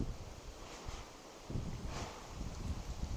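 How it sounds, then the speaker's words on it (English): Strong wind buffets an outdoor microphone beside a house, a steady rumbling rush that swells in gusts and stays loud throughout, with no speech. "I'm sorry, it's very windy."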